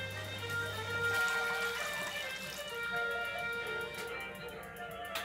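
Water effect with bubbles in an immersive room, a steady trickling, faucet-like flow with bubbling layered over a faint hum, moderately quiet, with no voices.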